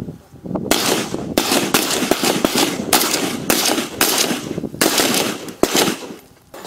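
Police firearms training on a range, with rapid bursts of loud gunshots fired close by in quick irregular succession, roughly a dozen sharp cracks over several seconds.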